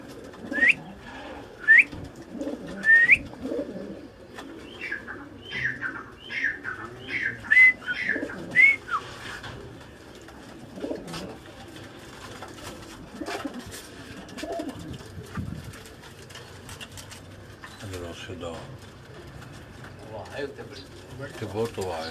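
Pigeons on a rooftop loft in Gujrat give repeated soft coos and whistling calls, clustered in the first half and fainter later, with low voices murmuring underneath.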